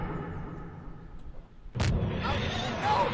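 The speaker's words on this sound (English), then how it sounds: "Don't mind the exploding thrusters" Thrusters explode in the video game Garry's Mod: quiet rumbling gives way to a sharp blast, followed by a loud, sustained roar of noise.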